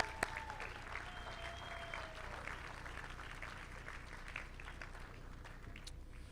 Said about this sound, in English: Let's show her a round of applause.